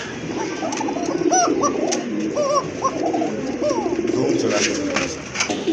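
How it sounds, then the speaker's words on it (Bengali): Imported pigeons coo and warble repeatedly in a pigeon sale collection, over a steady background murmur of birds, with a voice talking faintly underneath. "আরেক জোড়া কবুতর দেখতে পাচ্ছেন, ইম্পোর্টের কবুতর"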